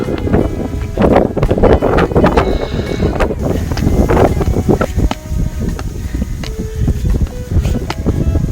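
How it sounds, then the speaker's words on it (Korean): Strong snowy mountain wind on Ulleungdo during winter ski touring roars and buffets close to the microphone in loud, continuous gusts, with scattered rustling through the blast. "바람이 눈이 날려서 위로 다 올라가고 있어요"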